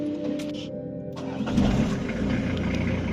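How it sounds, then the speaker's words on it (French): A camper van engine cranks and catches after a jump start with cables, a short whirring start followed by a rough, steady idle close by. "Sophie, maintenant tu vas démarrer."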